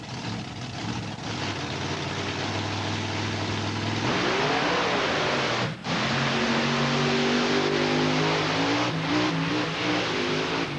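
A loud, heavy monster truck engine roars and revs hard off the staging line at a stunt show, pitch climbing as it pulls away, then drops briefly before surging again, continuous throughout.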